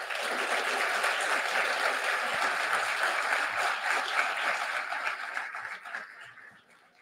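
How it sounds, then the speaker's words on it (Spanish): A crowd at a Mexican storytelling gathering in General Zaragoza, Nuevo León, claps warmly for their chronicler, a steady mid-level patter of many hands that fades out over the last couple of seconds, with faint chuckles mixed in. "Démosle un aplauso a nuestra cronista."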